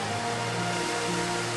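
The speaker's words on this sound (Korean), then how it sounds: "높이 140m의 포사 폭포입니다." The 140 m Fossa waterfall in the Faroe Islands pours in a dense, continuous roar of white-noise rush, steady and full without pause.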